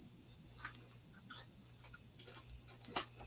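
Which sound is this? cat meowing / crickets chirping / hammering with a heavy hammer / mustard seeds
crickets chirping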